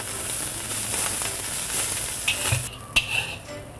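String beans stir-fry in a hot wok with dark sauce for Szechuan green beans, giving a steady close sizzle broken by a few scraping stirs and clinks of the spatula toward the end.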